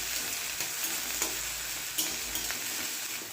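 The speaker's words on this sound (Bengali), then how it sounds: "এবার পেঁয়াজ আর লঙ্কা কিছুক্ষণ ধরে ভেজে নিচ্ছি" Chopped onion and green chillies sizzle steadily in a pan for a rural-style drumstick flower recipe, a continuous frying hiss broken by a few faint clicks of stirring.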